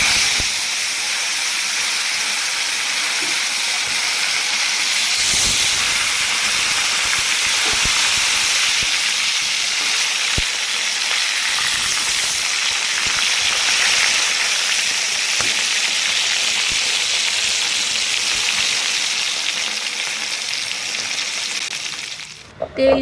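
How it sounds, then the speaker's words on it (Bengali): Koi fish fry in hot oil in a kadai in a Bengali village kitchen, making a loud, close, continuous hiss and crackle that runs on without a break and cuts off at the end. "মাছগুলো এবারে আমি একটা একটা করে ছেড়ে দেবো তেলের মধ্যে গরম তেলের মধ্যে"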